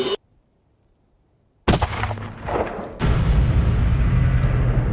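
A rifle shot rings out while hunting bull tahr in winter mountains, a sudden loud crack after near silence, followed by a rolling echo and a second sharp burst that leaves sustained rumbling noise.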